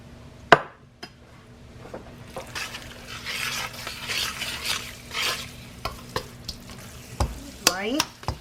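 Oil stirred into thick Lao jeow bong hot chili sauce in a pan, soft sizzling under repeated sharp spatula knocks and scrapes against the pan, close and uneven in rhythm.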